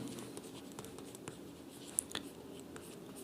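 Someone writes a decrease sign during an accounts lesson, making a few faint, short scratchy strokes in a quiet room.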